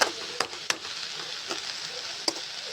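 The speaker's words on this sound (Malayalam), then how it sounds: "ഇങ്ങനെ ഇളക്കി കൊടുത്തുകൊണ്ട് നിൽക്കണേ കേബേജ് എല്ലാ ഭാഗത്തേക്കും ചൂടടിക്കണ്ടേ" Cabbage fries with onion and tomato in a pan, giving a soft, even sizzle close by, punctuated by several light clicks and scrapes as it is stirred.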